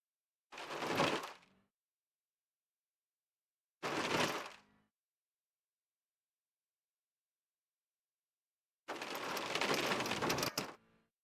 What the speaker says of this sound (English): it'll mimic the sound of rain hitting your windshield